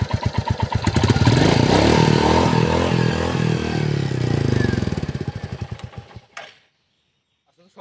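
A Royal Enfield 350 motorcycle engine runs close by with a thumping, pulsing idle. It gets louder briefly, holds steady, then cuts off near the end and leaves silence.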